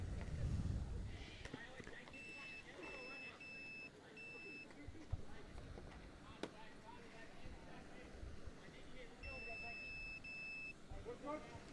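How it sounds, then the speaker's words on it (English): A scoreboard beeps during a reset in short repeated bursts, a run of four then a pause and another pair, over background crowd noise and talk at a state league match. "Sorry for all that beeping, but the scoreboard lost its score, so I had to reset it."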